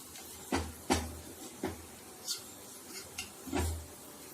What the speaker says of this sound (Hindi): इसको भी हम अच्छे से इसके मसाले में मिक्स करेंगे।